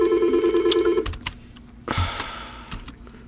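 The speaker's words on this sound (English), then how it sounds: "Sorry about the phone calls there." A telephone rings indoors with a warbling electronic trill for about a second and then stops, followed by scattered clicks and handling knocks, with no talking.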